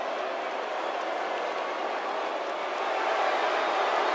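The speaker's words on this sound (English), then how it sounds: "And what about this crowd reaction," Arena crowd cheering in the WWE 2K18 wrestling video game before a women's match, a steady dense roar and applause that swells slightly toward the end.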